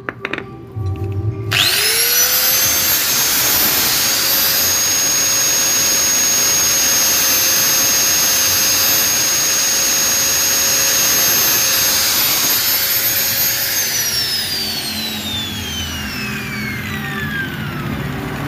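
Angle grinder spinning up and grinding a motorcycle ignition pickup rotor on a Honda CB, a loud steady high whine holding for about twelve seconds before winding down.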